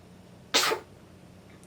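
A single sharp sneeze bursts out close by in a quiet room, followed by a faint breathy sound a moment later.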